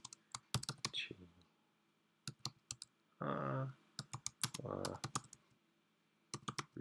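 Keys clack on a computer keyboard in bursts of quick taps with pauses between. A voice sounds briefly between the bursts.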